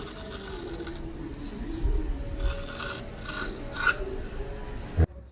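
Scissors snip through long hair tied with two rubber bands and levelled before a middle cut, a close rasping, crunchy cutting sound that swells and fades, ending with a sharp click.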